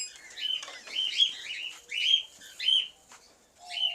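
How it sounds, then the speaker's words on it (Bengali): Caged birds, including cockatiels, call at a farm in a series of bright, repeated chirping bursts, close and clear against a quiet background. "এই যে পাখিগুলা দেখতেছেন"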